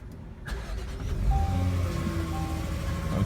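A Jaguar F-Pace engine cranks over and catches with a sudden burst, then settles into a steady, moderately loud idle close by.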